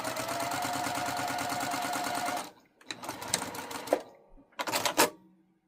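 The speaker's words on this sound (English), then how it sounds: "then you sew down the seams" Sewing machine stitching down the seams of a scrappy quilted pot holder, with one steady run of a couple of seconds followed by two shorter bursts, close and fairly quiet.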